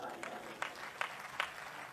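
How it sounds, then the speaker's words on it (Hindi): An audience at a Hindi talk or sermon claps, faint and distant, with a few sharper beats standing out from the soft patter. "अगर मानते हो तो ताली बजाइए।"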